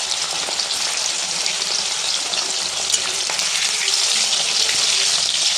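Small fish pieces fry in an iron wok, a loud, continuous close-up sizzle with faint crackles that swells a little toward the end.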